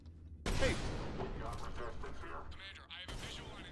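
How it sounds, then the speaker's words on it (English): Cannon fire in the video game Mass Effect 3 on Tuchanka: a sudden heavy booming barrage that rumbles on with rolling blasts and mechanical clatter, then a second sharp burst near the end. "The cannon fire is clearing the way."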